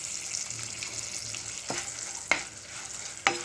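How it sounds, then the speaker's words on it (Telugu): Mustard-type seasoning crackling in hot oil as turmeric is stirred in for an aloo tomato curry, a soft sizzle punctuated by a few sharp pops and spoon knocks. "చూసారు కదా ఎలా పేలుతున్నాయో. నా మీద కూడా పేలాయండి, చాలా పేలాయి."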